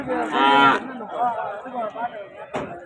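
Punganur cattle at a crowded cow market give a short, loud moo followed by lower lowing calls, with people chattering nearby.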